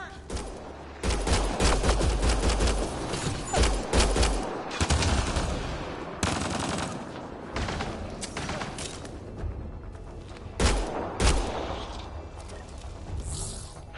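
Bursts of automatic gunfire and heavy shots in a Mass Effect firefight, dense rapid volleys with booming impacts that come in waves and stay loud and close throughout.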